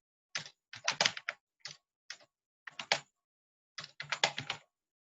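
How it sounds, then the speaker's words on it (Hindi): Fast bursts of typing clatter on a computer keyboard, close and crisp, coming in quick clusters of keystrokes with short pauses in between. "तो मैं यहाँ पे अगर कुछ भी फटाफट से टाइप कर दूं"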